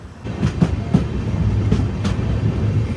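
An express train on the Tiruchanur to Hazur Sahib Nanded run rolls steadily along the rails, a low continuous rumble with a few rhythmic wheel clacks near the start.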